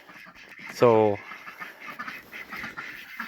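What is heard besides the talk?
runner ducks quacking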